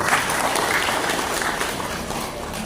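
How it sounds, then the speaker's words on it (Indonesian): Steady applause from an audience at an anniversary gathering of a Quran memorization house, a dense continuous wash of clapping throughout. "Tepuk tangan Bapak Ibu"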